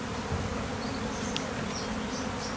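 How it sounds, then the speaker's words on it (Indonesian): Honey bees pour out of a hive in a dense, continuous buzzing drone, close and loud, with individual insects whizzing past briefly. "lebah-lebah yang keluar tadi."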